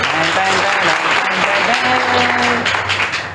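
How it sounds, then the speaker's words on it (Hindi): Loud, continuous applause opens a Hindi maths class lecture, with dense clapping and tonal voices or a sung melody mixed in underneath. "तो हम तालियों की गड़गड़ाहट के साथ स्टार्ट करेंगे लेक्चर"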